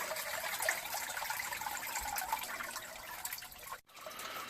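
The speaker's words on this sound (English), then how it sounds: "I'm just going to wait for all this water to run out of the two pipes that are going into the bucket" Water runs steadily from two pipes into a bucket during a pump replacement, a continuous splashing trickle that holds even and close for several seconds, then briefly dips before resuming.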